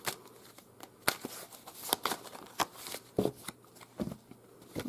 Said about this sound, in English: I'm going to shuffle 7 times.